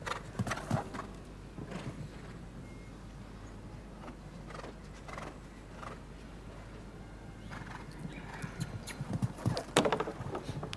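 A horse in the final round of show jumping at the FEI European Jumping Championships in Donaueschingen, Germany, with irregular hoofbeats on the course and a brief whinny over a steady open-air background.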